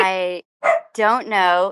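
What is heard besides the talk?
dog barking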